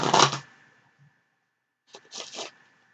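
A deck of playing cards is shuffled twice, each a short riffling burst of flicking cards, the first louder, then a brief pause before a second softer, stuttering riffle, close up in a quiet room.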